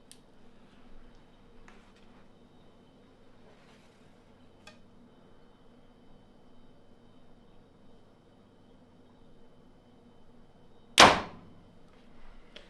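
A single sharp, loud release from a compound bow firing an arrow near the end, standing out alone against a quiet background with faint shuffling before it.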